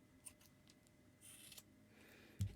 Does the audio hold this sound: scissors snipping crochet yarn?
yes